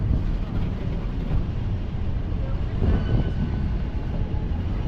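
Leadville railroad train running through the Rockies, a steady low rumble of wheels and cars heard from on board, continuous and fairly loud with faint voices in the background.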